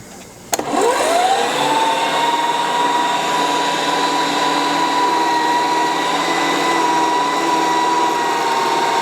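An electric meat grinder switches on with a sharp click and runs steadily at close range, a continuous motorized whine grinding meat through a fine plate for Swedish potato sausage.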